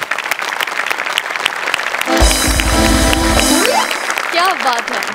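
Studio audience of a Marathi comedy television show bursts into loud applause for about a second and a half, joined by a musical sting, between stretches of someone talking.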